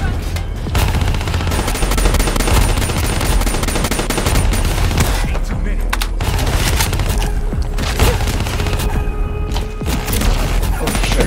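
Loud, dense gunfire in the video game Call of Duty Black Ops 3, with rapid automatic bursts, cracks and booms running almost without pause, while a voice shouts over the fighting.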